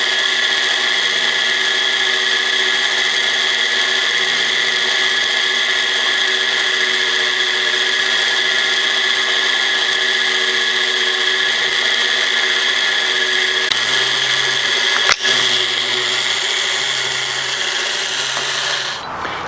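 A homemade Van de Graaff generator built from household waste parts runs with a steady, loud motor whine and hum, and a single sharp snap cuts through near the end.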